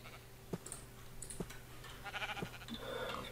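Sheep in the Minecraft mod Hexxit give a few short bleats in a game world. Soft, sharp clicks fall between them, and a busier, brighter hiss builds near the end.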